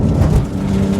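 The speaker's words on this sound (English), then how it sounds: "So here we have the same bump. Let's see how it takes it." A Porsche GT3 with Manthey Racing parts rolls over a bump on a rough road, giving a loud, close, dense low-frequency cabin rumble and thump with road and engine drone throughout this short moment.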